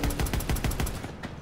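Rapid bursts of gunfire crackle in Call of Duty WW2, a quick rhythmic string of loud shots that thins out near the end, heard alone without talk.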